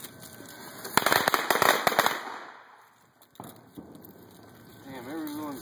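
Firecrackers go off outdoors in a rapid, loud burst of sharp cracks and pops that crowd together for about a second, then scattered single pops follow with voices nearby.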